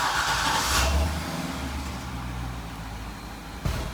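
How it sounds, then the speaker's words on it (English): A Chevrolet C6 Corvette engine fires up with a short burst, then settles into a steady, close, low idle rumble with no talking. "I'm going to go ahead and turn on the car and put the car in sport mode"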